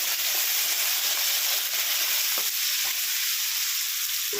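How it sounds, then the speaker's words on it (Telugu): Loud continuous sizzling from a pan of frying chicken curry, with scraping and clinking as tomatoes are stirred in with a few strokes. "ఇప్పుడైతే టమాటాలు కూడా వేసుకుంటున్నాను ఒకసారి బాగా కలిపేస్తున్నాను"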